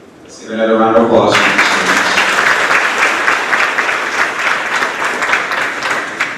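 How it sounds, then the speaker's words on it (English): A school audience at a grades 4–6 awards ceremony breaks into loud, sustained applause for students, with many hands clapping densely and evenly. A brief voice leads into it at the start. "Let's give another round of applause for these students."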